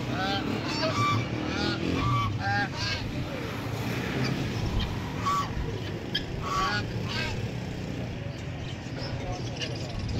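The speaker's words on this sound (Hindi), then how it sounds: "ये पेपर वाइट बतख है, माशाल्लाह से बहुत खूबसूरत है।" Paper white ducks and other fowl at a busy bird market honk and quack repeatedly over a steady crowd murmur, with someone speaking throughout.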